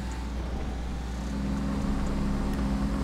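A big truck engine idles and runs steadily in GTA 5, a low, constant rumble with a faint hum, unbroken and without speech throughout.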